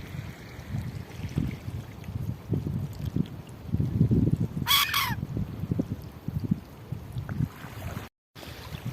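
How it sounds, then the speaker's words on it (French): Seagull calls on a cold winter shore near Carnac at low tide, a short burst of harsh cries partway through over steady wind and water noise. "la mouette elle chasse les petits"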